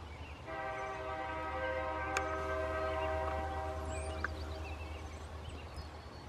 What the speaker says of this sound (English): here comes the CN coming up to the Mead crossing.